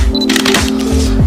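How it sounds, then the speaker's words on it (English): Close, loud mechanical shutter clicks from a Canon EOS R mirrorless camera, with a couple of quick snaps over a steady hum and no voices. "when you take a picture right now, if you just took it and you can hear the shutter sound"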